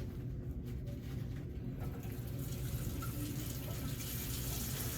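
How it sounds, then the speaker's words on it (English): A faucet runs steadily in a sink during a perineal care skill demonstration, giving a constant close rush of water that grows slightly brighter partway through, with no talk. "I'm gonna take a paper towel to turn the water faucet on."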